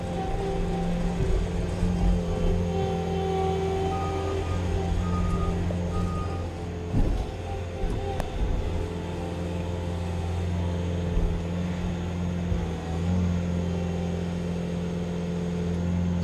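A 2022 Bobcat S76 skid steer runs steadily up close, its diesel engine holding a constant droning hum with tonal whine for the whole stretch, plus a brief clunk partway through.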